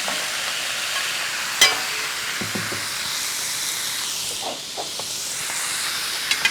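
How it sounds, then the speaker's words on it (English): Pieces of already browned pork go into a hot pan and set off a loud, steady hissing sizzle, with a sharp clank early on and scattered small clicks and stirring noises. "I brown some of this pork already, so I'm going to add those pork into the pan"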